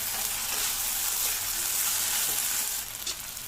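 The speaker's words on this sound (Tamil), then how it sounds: "இந்த உருளைக்கிழங்கை மட்டும் தனியாக ஒரு 5 நிமிஷத்துக்கு இந்த மாதிரி வதக்கி எடுத்துக்கோங்க" Potatoes sautéing in a pan for potato masala, a close, steady hissing sizzle with light stirring, easing slightly toward the end.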